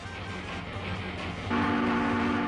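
A real train rumbles steadily, then a loud, sustained horn blast cuts in halfway and holds to the end, with no voices over it.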